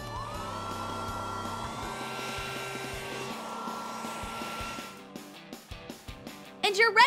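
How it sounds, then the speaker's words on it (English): A hair dryer blows on someone's freshly washed bangs, a steady airy whine for about five seconds that then cuts out, leaving short clicks and knocks behind. "Now, dry your bangs."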